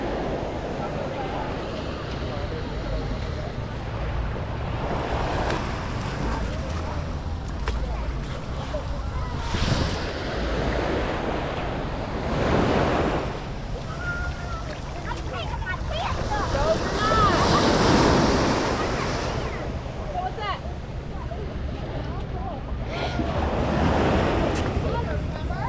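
Ocean surf rolls onto a Florida beach as the tide comes back in, with waves breaking in repeated swells under heavy wind noise, while people talk nearby.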